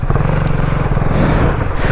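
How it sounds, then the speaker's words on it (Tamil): A KTM Duke 250 Gen3 motorcycle running loud and close, its engine note rising and shifting as the quick shifter changes gear, with no talking over it. "குவிக் ஷிஃப்ட் எப்படி வேலை செய்யுதுன்னு உங்களுக்கு நான் காமிக்கிறேன்"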